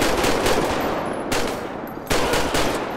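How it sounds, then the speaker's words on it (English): Gunfire in GTA 5 with the LSPDFR police mod: dense rapid shots roll on continuously with sharp louder bursts breaking in, close and loud, with no talk over it. "He's shooting the guy."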